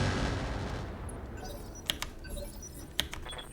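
Mech weapons firing at the Seraph in the game Roguetech, a loud rumbling barrage fading into a few sharp distinct impacts and clicks, no talk.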